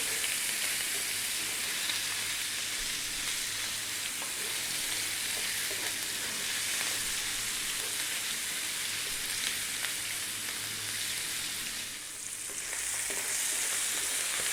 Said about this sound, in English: I'm going to cook this for about 6 minutes, moving it quite often.